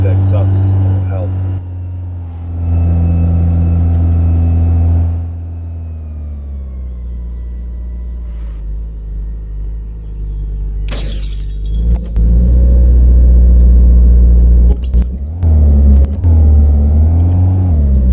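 A damaged car in a garage idles and revs after an exhaust system change, with deep rumbling engine swells and a few sharp clanks, while someone talks over it.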